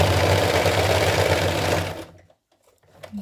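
Sewing machine stitching a padded bra, running loud and steady for about two seconds before stopping abruptly, followed by near silence with a faint click.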